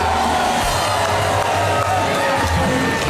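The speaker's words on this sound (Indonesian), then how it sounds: "Aplaus for Ike" A live audience applauds and cheers loudly for a dangdut singer: a dense, continuous wash of clapping and crowd noise with whoops and shouts mixed in, sustained for a few seconds.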